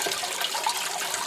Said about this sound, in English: Now this is leaking a little bit here